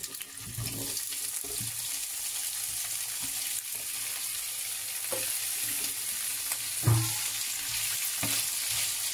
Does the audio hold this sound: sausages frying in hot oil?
yes